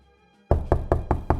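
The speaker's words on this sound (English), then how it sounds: "there was a knock on the door" Five quick, loud knocks on a door in a steady rhythm after a brief near-silence, close and alone.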